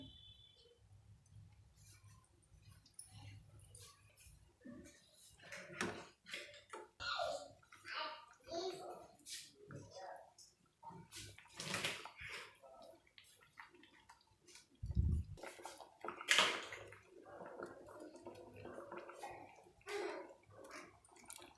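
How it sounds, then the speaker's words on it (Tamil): Eggs broken into a ladle and poured one at a time into a pot of boiling Tamil-style egg gravy (muttai kuzhambu), giving soft intermittent splashes and bubbling that stay quiet, mixed with a person talking. "இப்போ முட்டையை பொத்து ஊற்றுவோம், ஒவ்வொரு முட்டையாக."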